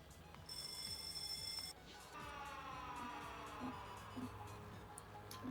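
An electronic alarm tone in the video game Factorio: Space Age sounds for a couple of seconds, then gives way to a rising, warbling synthetic siren that keeps cycling, quiet and close.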